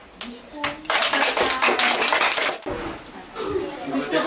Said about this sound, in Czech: Zatleskáme mu!